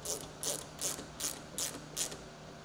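A ratchet tightening the lower console fastener on a 2022+ Polaris Patriot Boost RMK Matryx Slash snowmobile, heard as six quick, evenly spaced bursts of close, crisp clicking with nothing else in the background.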